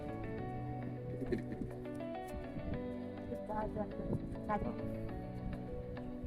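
A sparrow calls at Revdanda beach near Alibaug with brief, faint chirps scattered over a continuous low hum, while people talk nearby.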